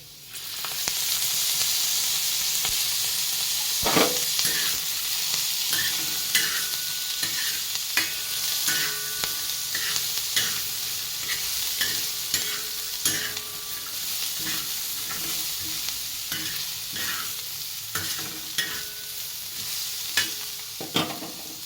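Curry leaves and garlic frying in oil, with a loud, constant sizzle and repeated stirring clicks and scrapes over about twenty seconds, close up and without speech.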